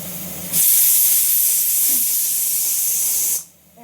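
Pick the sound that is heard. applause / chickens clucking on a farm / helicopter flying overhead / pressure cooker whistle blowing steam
pressure cooker whistle blowing steam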